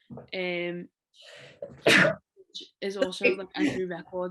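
A single sharp human sneeze bursts out between stretches of conversational talk in a women's football podcast discussion, loud and close, with speakers chatting before and after it.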